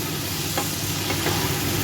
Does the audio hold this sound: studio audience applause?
no